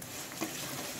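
A spoon stirs a turmeric and salt tempering mixture in a hot pan, giving a soft scraping swish over a low sizzle, close and brief.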